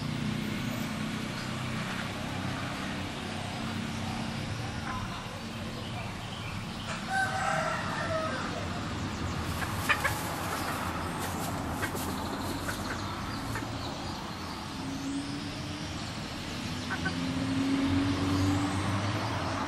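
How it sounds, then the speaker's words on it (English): A rooster crows and chickens cluck in the middle distance, intermittent calls rising over steady outdoor background noise with passing vehicle rumble, around a cock and hen in courtship display. "Just across, you can see a cock and a hen."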